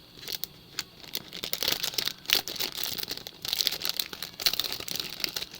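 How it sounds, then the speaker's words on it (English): Plastic bags holding small Lego pieces for a Resistance bomber micro build crinkle and rustle close by in irregular bursts, with sharper crackles scattered throughout. "It looks like a bunch of little bags in here, and a lot of crinkles."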